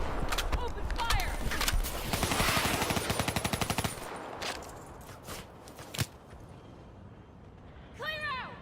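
Rapid automatic gunfire from a Call of Duty: Black Ops III cutscene, loud bursts of evenly spaced shots near the start and then scattered single cracks, with voices shouting over the battle.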